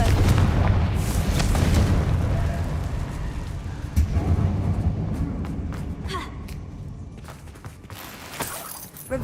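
Confringo fire spell exploding in the game Hogwarts Legacy, a deep rumbling boom with a long roaring tail, followed by a few sharper impacts and crackles as the blast fades.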